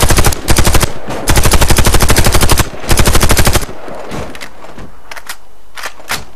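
Automatic weapon fire in the shooter game Warface, three loud rapid bursts of rattling shots separated by short pauses, then a few scattered quieter clicks and thuds.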